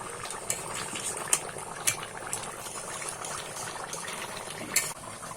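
Kashmiri aloo dum bubbling in a pot of water, a steady close boil with small pops and a few sharp clicks.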